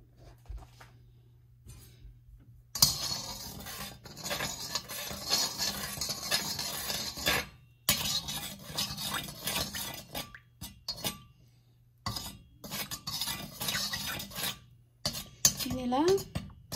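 Masala, pepper, chili and salt are stirred into oil in a pan with a utensil, producing close, steady scraping and clinking bursts separated by brief quiet gaps.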